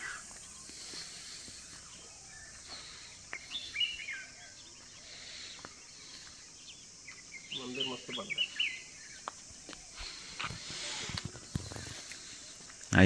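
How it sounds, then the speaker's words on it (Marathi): Small birds chirp and twitter in scattered bursts around a temple near Mandangad, fairly faint against open outdoor ambience, with some voices and movement nearby. "इथे फक्त आता पक्ष्यांचाच किलबिलाट चालू आहे सगळीकडे."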